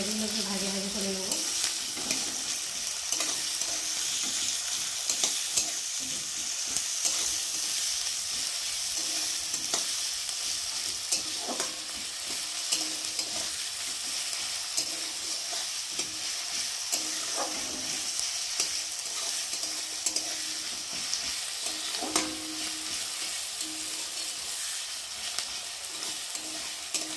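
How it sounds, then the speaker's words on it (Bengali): Sliced onions fry in hot mustard oil, giving a steady, close sizzle. Intermittent scrapes and clanks of stirring sound throughout, and a low hum is heard briefly at the start. There is no talking. "একটু পেঁয়াজগুলোকে ভাজা করে নেব।"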